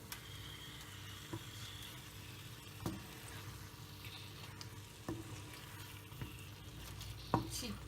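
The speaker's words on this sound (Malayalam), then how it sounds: "ഇനി നമുക്ക് ഈ മസാലയ്ക്ക് നമ്മുടെ ചിക്കൻ ഇട്ട് കൊടുക്കാം" Chicken being fried and stirred in a tomato masala for chicken roast, a steady quiet sizzle with occasional soft clicks of a spoon against the pan, no voices.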